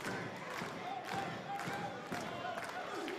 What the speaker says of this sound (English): this crowd is letting Jax Dane have it